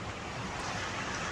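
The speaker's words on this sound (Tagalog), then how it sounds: "Sobrang alon." Surf from ocean waves at high tide along a white sand beach, a steady dense wash with no distinct breaks, heard close for just over a second with no talking.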